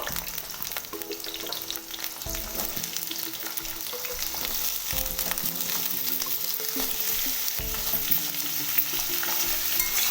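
Cut potatoes fry in oil over a low flame, a continuous close sizzle with repeated stirring and scraping strokes in the pan and no voices.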